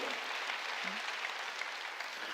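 A congregation claps along during a Korean church sermon: steady, dense clapping that holds at an even level throughout and stays fairly quiet and distant, with no voices.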